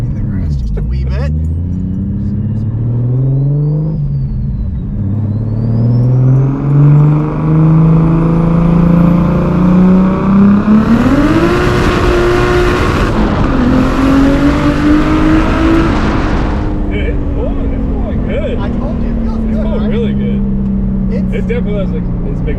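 A tuned 1000-horsepower Lexus IS300 engine revs and accelerates hard through the gears, its pitch climbing and dropping at each shift, very loud and close, with voices talking over it.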